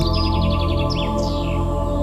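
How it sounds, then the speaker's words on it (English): A bird sings rapid chirping trills and swooping tweets close by, loud and clear over a steady droning background hum. "you hear the faint call of a night bird and the soothing rhythm of crickets beginning their nightly song"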